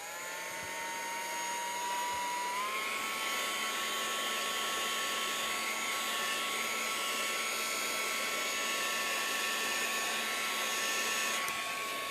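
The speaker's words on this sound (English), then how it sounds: "Oops, I had to dry this a little bit, so I apologize for the sound." A hair dryer or heat tool drying a handmade craft card runs continuously at close range, a steady loud whirring hiss with a slight pitch shift near the start.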